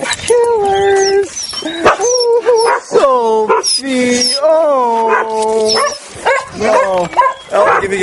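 Several puppies bark, yip and howl in overlapping bursts close by, with whimpering cries mixed in throughout.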